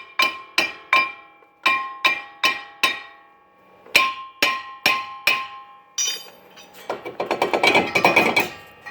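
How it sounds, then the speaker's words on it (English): Loud metallic hammer blows pound a rusted, stuck brake rotor on a 2005 Hyundai Santa Fe, ringing out in spaced groups, then a rapid flurry of quicker strikes at the end, close and clanging with no talking. "you have to pound it with a hammer as well because it gets rusted and stuck on there"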